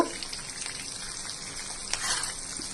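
Curry leaves and green chillies hit hot oil and give a steady close sizzle and crackle that holds for a few seconds, with a brief louder burst partway through and no voices.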